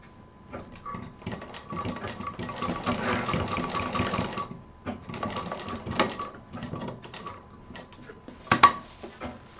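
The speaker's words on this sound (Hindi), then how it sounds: "यहाँ भी 2-3 बार मशीन चलाएंगे" A sewing machine stitches the end of a small cloth pouch for a passbook or cheque book, running in quick, close bursts of rapid mechanical clatter with brief pauses between runs.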